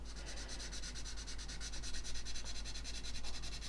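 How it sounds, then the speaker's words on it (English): Rapid back-and-forth rasping of a sanding stick on a plastic model kit seam, a quick regular scratchy rhythm, close up and fairly quiet. "So we now need to sand the seam more to remove the scratches"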